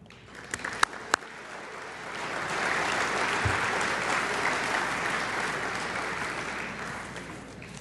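An audience in a room applauds at the Tri-Citian of the Year event, a steady wash of clapping that swells after a few sharp claps and keeps going without talk.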